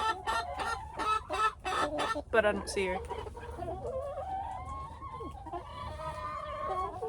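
Chickens cluck in short, repeated bursts near a coop door on a farm in December, close and fairly clear, followed by a person speaking briefly over quieter fowl sounds.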